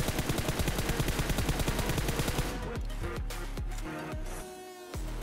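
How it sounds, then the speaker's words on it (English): Rapid automatic gunfire from PUBG Mobile during jump and crouch firing, a fast even burst followed by a more uneven, spaced string of shots, loud and close with no talking. "Surprising your enemies by jump firing and later crouch firing."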